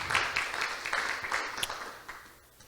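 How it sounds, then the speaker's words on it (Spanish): Congregation clapping in a church service, a brief burst of scattered applause that thins out and fades over a couple of seconds. "¿Cuántos le dan un aplauso al Señor?"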